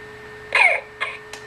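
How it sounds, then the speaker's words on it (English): A RealCare2 electronic baby doll gives a small electronic-sounding cough, then two shorter coughs, close and clear against a faint steady hum. "let's see if she starts coughing again"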